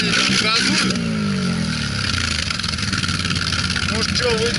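A quad bike engine revs continuously while the machine sits stuck in water, its steady drone holding throughout, with people talking over it.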